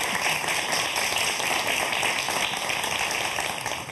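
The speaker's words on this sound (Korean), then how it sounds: "교수님께 박수 부탁드리겠습니다" Studio audience applause for a university automotive professor on a Korean broadcast talk show, a steady, dense wash of many hands clapping that holds for the full four seconds with no pause.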